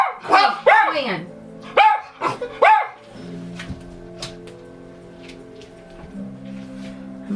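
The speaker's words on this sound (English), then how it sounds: "they bark if they see anyone" Pet dogs bark in a quick burst of several sharp, loud yaps close by, then fall quiet as faint room sounds and light movement carry on.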